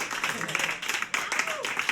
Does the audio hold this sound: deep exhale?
no